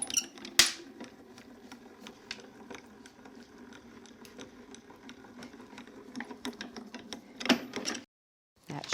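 A die-cutting machine cranks a crafting card through its rollers, giving a steady run of mechanical clicking and whirring at close range with a louder clunk near the start and a busier burst near the end before it stops.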